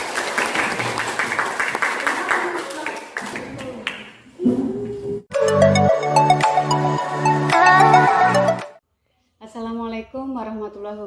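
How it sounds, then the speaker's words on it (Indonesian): Applause for a school staff presentation in Indonesia, a burst of dense clapping at the start that gives way to chiming, tonal electronic music notes and a short pause before more tones. "Tepuk tangan untuk kita semua."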